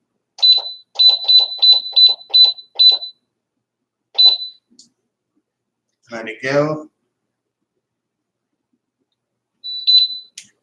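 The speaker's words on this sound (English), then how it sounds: "And it starts beeping and pressurizing." An electric pressure canner processing pulled pork gives a high electronic beep in a quick run of about eight pulses as it pressurizes, then single beeps follow with pauses, and a brief voice speaks in between.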